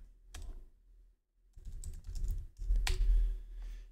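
Keys clatter on a computer keyboard as a sudo command is entered in a forensics challenge, a few bursts of close, crisp keystrokes separated by brief pauses.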